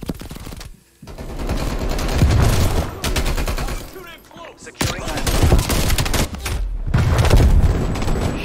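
Dense, rapid bursts of automatic gunfire with heavy booms from a Call of Duty Black Ops Cold War match on PS5, loud and continuous with brief pauses around the one- and five-second marks.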